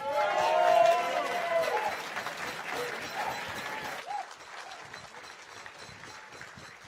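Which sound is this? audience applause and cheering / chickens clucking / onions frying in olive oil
audience applause and cheering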